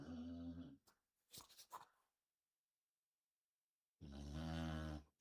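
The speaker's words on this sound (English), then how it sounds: "Can you guys hear my dog snoring?" Two drawn-out, low rumbling dog snores close to the microphone, separated by a few seconds of near silence and some brief rustling.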